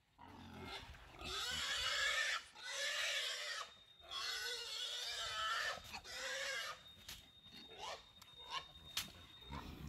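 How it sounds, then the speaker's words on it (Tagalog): A pig being carried down a mountain after rain lets out loud, repeated squeals in several long bursts, fading to scattered shorter cries and rustling near the end. "yung ating baboy ay gusto na talagang maligo dyan sa may putik"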